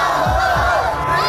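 A crowd of protesters shouts and chants slogans together after Friday prayers, a loud, dense wall of massed voices with rhythmic rising cries.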